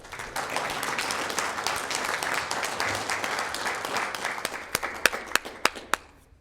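A city council meeting audience claps for firefighters in a steady round of applause that thins out near the end into a few loud, isolated claps.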